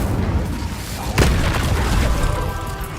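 A fire spell cast in Hogwarts Legacy: a sudden loud whooshing burst flares near the middle over a steady rumbling game-sound bed, then the roar settles.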